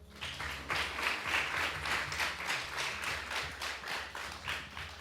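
Audience clapping at a Marajoara cultural gathering, a steady broad wash of many hands with rhythmic pulses, fairly close and sustained over a low musical drone.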